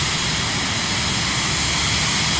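Cirrus SF50 Vision Jet engine in Microsoft Flight Simulator, a steady, loud, broadband jet roar heard from the cockpit, unbroken and alone for the whole stretch.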